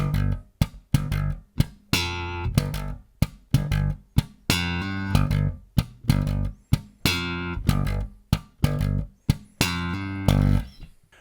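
Bass guitar riff played with double thumb slap technique: punchy, percussive thumb-slapped notes in a tight, syncopated rhythm with sharp attacks and short gaps, close and clear with no talking.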